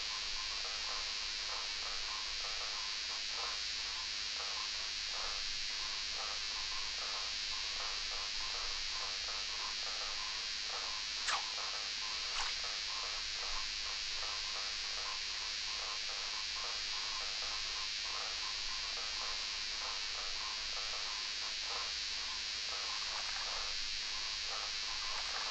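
Dense, steady insect chorus of cicadas droning continuously beside a small lake on a summer day, a high shimmering buzz with faint pulsing, moderately loud and unbroken throughout.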